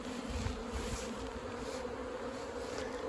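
Honeybees hum in a dense, steady buzz around an opened hive super where they are storing nectar, the swarm sound close and continuous with no voices.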